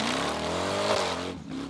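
A 4x4 competition truck called the Gambler revs at an extreme off-road hill challenge, its engine droning loud and steady with a rising pitch, then cutting briefly before it revs again.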